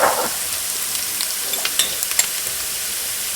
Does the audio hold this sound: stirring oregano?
yes